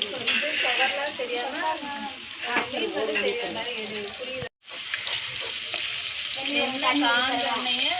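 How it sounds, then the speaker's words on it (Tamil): Fish roasting on both sides in a pan over a low flame gives a steady, close sizzle and crackle that runs the whole time under a voice talking, with one brief silent gap midway. "இந்த மாதிரி ஒரு ரெண்டு பக்கமும் ரோஸ்ட் பண்ணி எடுத்துக்கணுங்க"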